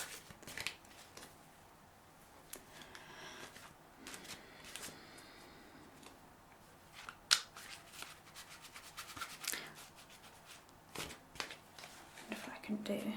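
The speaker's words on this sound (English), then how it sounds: "But I need to shuffle more." Tarot cards are shuffled softly and close up, with scattered riffles and light snaps, under quiet, hushed speech.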